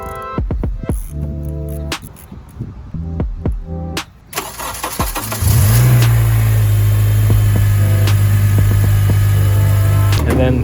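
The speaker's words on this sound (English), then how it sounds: "Start the engine." Several sharp clicks and cranking sounds, then an Acura TSX engine catches after a spark plug replacement and settles into a steady, loud idle that continues to the end.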